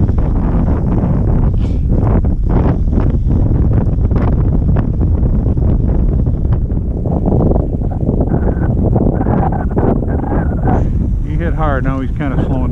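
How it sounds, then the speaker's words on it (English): Wind buffeting a microphone on a boat out on Sebago Lake, Maine, at ice-out while fishing, a loud continuous low roar and rumble throughout, with a voice briefly heard near the end. "Else that wind will frig us up."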